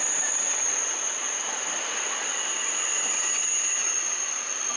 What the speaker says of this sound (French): Un turbo-train.